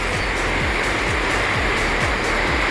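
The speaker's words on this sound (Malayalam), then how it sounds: "രണ്ട് സൈഡും വെള്ളച്ചാട്ടം കേട്ടോ." Waterfalls rush beneath an iron bridge in the mountains of Nepal, a loud, continuous roar of falling water with no voices.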